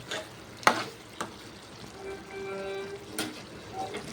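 Mushroom tomato curry simmering in a pan is stirred, a few soft scrapes and knocks of a spoon spaced over a quiet bubbling sizzle, near and fairly faint, without talk.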